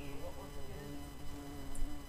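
A bee buzzes close to a partly open window, a steady, fairly faint drone that holds through the whole stretch over a low background hum.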